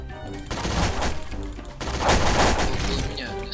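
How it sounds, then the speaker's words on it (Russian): Rapid bursts of gunfire in Garry's Mod on an Area 51 SCP map, two loud volleys of close, rattling shots separated by a brief pause, with a voice speaking faintly in between. "я слышу выстрелы"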